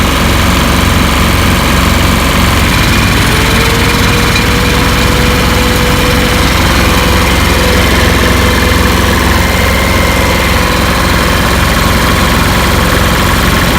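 Rigmaster APU diesel engine running on a truck, loud and close, with a steady droning rumble and a fast knocking beat that holds throughout, with no talking.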